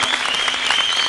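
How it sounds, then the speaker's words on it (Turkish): An audience at an arabesk music concert breaks into loud, dense applause, a continuous wash of many hands clapping with no pause through the brief moment. "Alkışlar efendim. Durmuyor."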